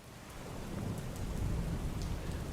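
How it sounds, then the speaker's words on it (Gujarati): Heavy downpour falls in Gondal, a steady dense hiss of rain with a low rumbling undertone, continuous and fairly even throughout the short stretch. "તો ગોંડલમાં ધોધમાર વરસાદ વરસ્યો"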